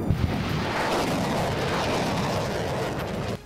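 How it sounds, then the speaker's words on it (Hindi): Artillery and missile fire during a US–Philippines military drill near the South China Sea and Taiwan Strait, a dense, continuous roar with a sharp boom at the start, loud and sustained without pauses. "उनकी तोपों की आवाज से पूरा इलाका गूंज उठा"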